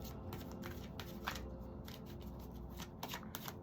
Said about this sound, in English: get 2 more cards here